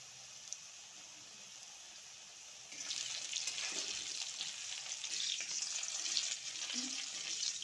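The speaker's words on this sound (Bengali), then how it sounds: "মাছ ভাজা তেলে আলুগুলো ভেজে নেব।" Potatoes fry in leftover fish-frying oil seasoned with salt and turmeric; a quiet lull gives way, partway through, to a steady close sizzle with a few stirring clinks.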